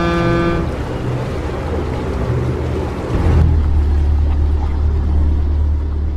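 A destroyer ship in a kids' video game chugs along in a steady, loud rumble under a low engine drone, with no talking.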